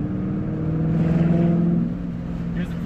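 A 2008 Ford Mustang GT with the 3-valve 4.6-litre V8 revs up close and loud, its deep harmonic drone climbing and holding before easing off near the end, a steady rumble throughout.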